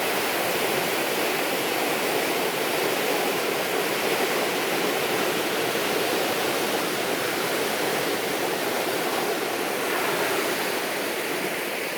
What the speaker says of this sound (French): C'est l'une des plus belles plages d'Asie.